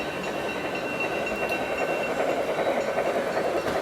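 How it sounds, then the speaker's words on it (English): An HO scale Union Pacific Big Boy model train runs along its track at a model kit show in Estonia, producing a steady, continuous rolling rumble with faint clicking over busy hall ambience, with no talking. "how can we do a model show without any model trains? So here we go, we have some Union Pacific."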